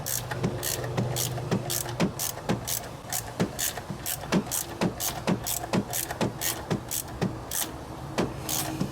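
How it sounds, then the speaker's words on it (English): A socket wrench ratchets in quick, steady clicking bursts while loosening a stubborn bolt on the EGR valve of a 1997-2004 Ford F-150 with the 4.6L V8, the clicks repeating evenly and close throughout. "This bolt's not turning easy, so I gotta use this socket wrench."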